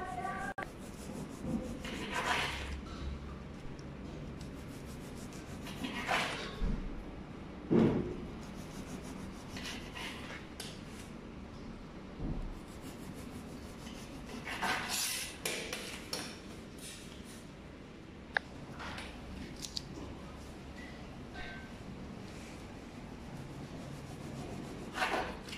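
A serrated saw knife cuts through dry pastry in repeated rasping, scraping strokes, close and moderately quiet, with pauses between the cuts and no talking.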